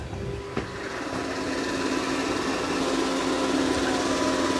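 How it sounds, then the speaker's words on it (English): A steady mechanical whir with a constant tonal hum from a Dreame X40 Ultra robot vacuum mopping nearby, unbroken and without speech. "you'll hear the vacuum part quick, but it's still mopping."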